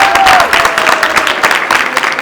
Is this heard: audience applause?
yes